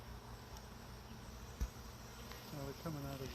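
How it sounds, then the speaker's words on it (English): Faint buzzing of honey bees from a swarm hovering near a small urban beehive, a soft steady drone with a brief click partway through. "All of a sudden we have more bees by us."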